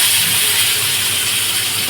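Continuous bright hissing sizzle of eggplant frying in hot oil, steady and close, with no voices.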